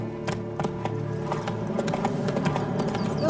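Roach the horse in The Witcher 3 clopping along at a steady walking rhythm, hooves knocking crisply amid a jingle of tack and a low background bed.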